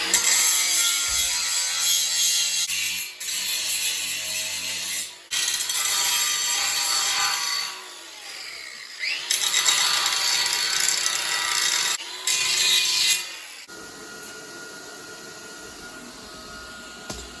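Grinder working a weld on steel for a pull-up-strength bookshelf frame, loud harsh grinding in several bursts of a few seconds each with short pauses between, ending in a quieter steady hum.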